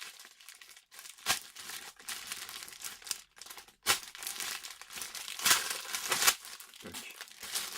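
Crinkling plastic packaging being opened around a Naruto figurine of Jiraiya, with several sharp crackling bursts and rustles at close range over a low background.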